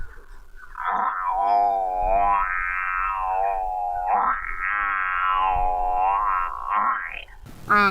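A voices a long, wavering imitation of a buffalo's call, a loud, continuous bellow that rises and falls in two swells over several seconds.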